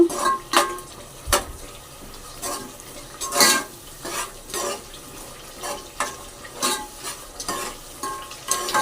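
Rice fried with yogurt for chicken biryani sizzles in a pot, stirred in repeated scraping strokes that rise and fall every second or so over a soft frying hiss.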